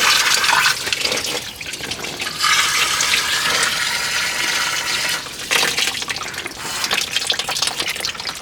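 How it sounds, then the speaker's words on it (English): Homemade air-water hose nozzle rinsing out a Honda D-series engine block, a steady loud gushing spray of water with surging bursts and no talk. "we're getting the block rinsed out right now"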